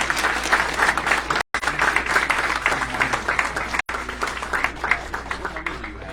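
Audience applause at a Lehigh Valley IronPigs stadium funding event, continuous clapping with a few sharper individual claps and brief dropouts, no clear speech over it.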